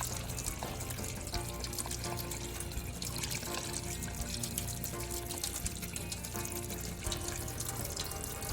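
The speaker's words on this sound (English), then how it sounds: "Get some more cold water running so we can continue our wash." Cold tap water runs steadily into a butter churn for washing the butter, a continuous splashing, hissing flow heard close up and alone without talk.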